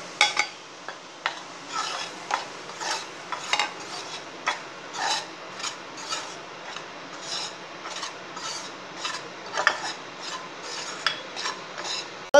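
Wheat flour roasting in ghee in a kadai is stirred with a spoon, making repeated rhythmic scraping and rasping strokes, close and clear, about one every half second over a quiet sizzle.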